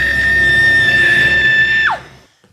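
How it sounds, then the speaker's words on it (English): A woman's long, loud, sustained scream holds a steady pitch, then drops sharply and cuts off after about two seconds, with no other sound around it. "That was my best scream."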